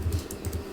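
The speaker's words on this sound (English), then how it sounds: "and then typing" Typing on a computer keyboard while entering a value in COMSOL software, a short run of soft, close key taps in an uneven rhythm, quiet and alone.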